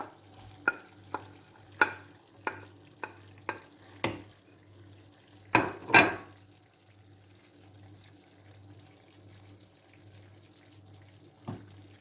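Vegetables and spices being stirred into braised meat that has been cooking about 50 minutes, with a spoon knocking the pot in a steady run of sharp clicks over a faint sizzle, then a louder clatter and a lone knock near the end.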